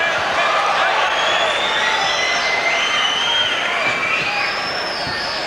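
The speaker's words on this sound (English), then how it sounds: "Certainly the crowd have loved that at the end of round 1." Crowd cheering at a 1994 Asian Combat Challenge kickboxing match, a loud dense roar of voices sustained throughout with whistles and shouts rising above it.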